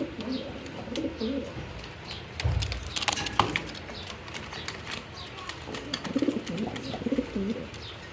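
A pair of Baghdadi Huma pigeons cooing in soft low repeated bursts close by, with some faint chirps and a brief rustle mid-way, no talking.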